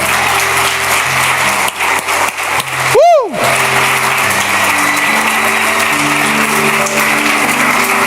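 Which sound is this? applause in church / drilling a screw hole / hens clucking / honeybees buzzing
applause in church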